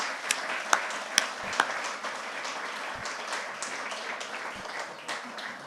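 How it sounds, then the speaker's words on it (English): An audience at a legal address applauds future lawyers, a few sharp claps at first and then a soft, steady ripple of applause in a hall. "a round of applause to our future generation of lawyers"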